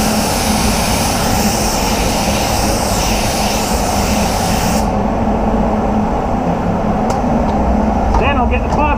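A spray gun lays base coat on a BMW 325i, a loud, steady hiss close by that runs for about five seconds and then drops to a quieter, duller hiss with faint clinks near the end.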